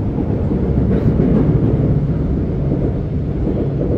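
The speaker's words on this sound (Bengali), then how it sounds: "উপর দিয়ে ট্রেন যাচ্ছে" Deep, loud rumble of a train passing overhead, rolling steadily throughout with no voices.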